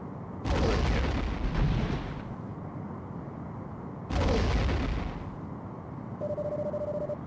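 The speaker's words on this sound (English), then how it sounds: "Oh my god, that's so many torpedoes." Photon torpedoes fired in the Star Trek The Next Generation: A Final Unity video game, two loud whooshing launches a few seconds apart, each lasting about two seconds, followed by a short electronic tone.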